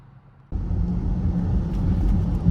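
Interior drone of a 2023 Mercedes-AMG EQS 4MATIC electric sedan in Pinnacle trim rolling out on the road: quiet at first, then a steady, fairly loud road and motor rumble takes over after half a second and holds evenly.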